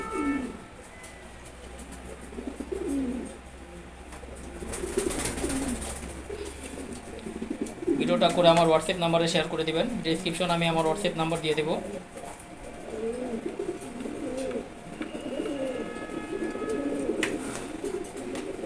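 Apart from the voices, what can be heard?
male Giribaz pigeons cooing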